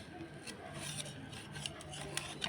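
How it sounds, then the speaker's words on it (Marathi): A knife slices fried coriander vadi into round pieces, making faint, repeated scraping and rasping strokes against a board. "मी तुम्हाला कोथिंबीर वडी कापून दाखवते"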